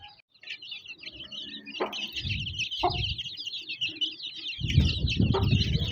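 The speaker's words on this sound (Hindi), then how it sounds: "मुर्गी अब कीड़ा ढूंढने में मदद कर रही है" An Aseel hen clucks repeatedly in short, low bursts while higher chirping peeps from her Aseel chicks carry on continuously around her as they feed, close by.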